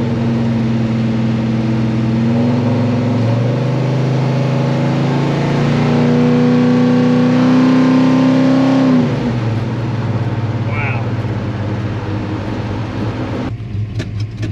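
A cold V8 fed by twin Edelbrock VRS-4150 carburetors on a tunnel ram intake idles with a loud, steady burble that rises in pitch for a few seconds before settling, with no talk.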